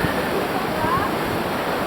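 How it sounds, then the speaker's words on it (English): An Iceland waterfall gives off a steady, full broadband roar that holds even throughout, with some wind rushing across the microphone. "Trying to go down to the waterfall."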